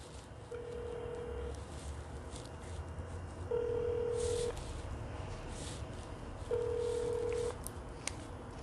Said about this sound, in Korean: 전문가가 전화를 안 받습니다.